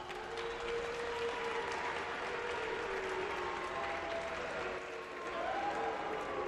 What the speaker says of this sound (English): Crowd don't like it